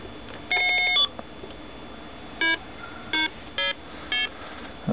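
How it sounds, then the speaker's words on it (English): Parker Brothers Merlin handheld electronic game from 1978 in its Music Machine mode, playing a series of short electronic keypad tones, one long note then several brief separated beeps over a quiet hiss. "lets you make music on the keypad"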